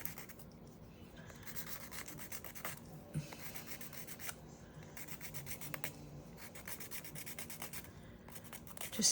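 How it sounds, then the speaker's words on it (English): Steady rhythmic scraping as the edge of a UV resin phone grip is sanded by hand, close and fairly quiet, with repeated back-and-forth strokes and no talking. "just sand that edge off a little bit"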